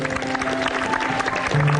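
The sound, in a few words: audience applause for Bima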